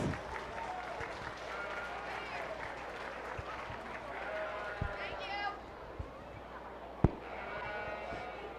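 Crowd applause for junior sheep showmen in the show ring at a county fair, scattered clapping under an announcer's voice, with sheep bleating and a sharp knock near the end.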